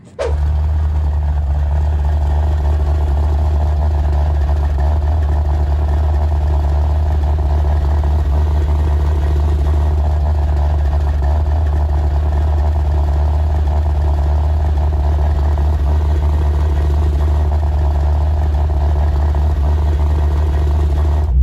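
A Chevrolet C4 Corvette project car with a rumbling engine, its deep steady drone running continuously and fairly loud throughout as it drives around the block, no talking.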